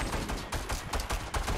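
Rapid gunfire in the video game Fortnite crackles in dense bursts of repeated shots, loud and close, with short gaps between volleys and no talk over it.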